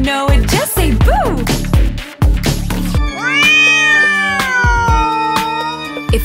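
A singing voice imitates a black cat's meows in a Halloween children's song, with several drawn-out, rising and falling meows followed by a sustained, wavering high meow over musical accompaniment.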